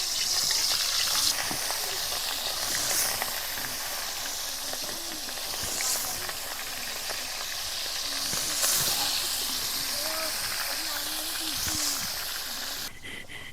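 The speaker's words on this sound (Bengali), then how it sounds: "এবার মাছগুলো ভেজে নেব।" Pieces of katla fish frying in hot oil in a wok, a steady loud sizzle and hiss running throughout with faint stirring touches, close up.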